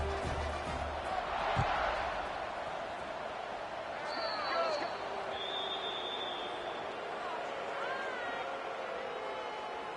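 A stadium crowd at a Grambling State college football game murmurs and calls out just before kickoff, a steady broad roar with scattered shouts and whistles, with voices talking over it.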